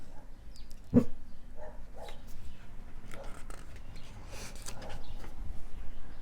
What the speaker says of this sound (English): I don't know if you can hear in the background, there's a dog barking, one of the neighbor's dogs